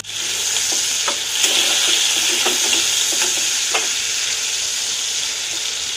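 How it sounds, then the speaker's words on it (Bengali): Prawns fry in hot oil while being stirred, a bright continuous sizzle broken by scattered scraping clicks of the spatula, close and fairly loud, with no talk. "চিংড়ি মাছগুলো আমার ভালো করে ভাজা হয়ে গেছে,"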